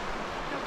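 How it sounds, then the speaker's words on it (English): A river in the Denali wilderness near Riley Creek Campground rushes steadily, producing a broad, continuous wash of flowing water with no pauses across the brief moment. "She prefers to listen to the sound of the river instead of my voice."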